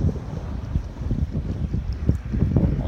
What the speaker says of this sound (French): Il y a des rafales à 35 nœuds.